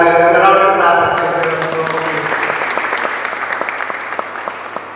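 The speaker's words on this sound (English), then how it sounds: "So hats off to all of you and a round of applause." An audience at a school debate competition breaks into applause that starts over the last words of a speaker and carries on as a dense, steady clapping that slowly thins and fades.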